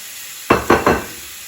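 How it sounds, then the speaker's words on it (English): Shrimp for Spanish garlic shrimp hit a hot skillet, giving three quick, close sizzling bursts in a row, each fading fast, with no one talking. "Now at this point, I'm going to add my shrimp"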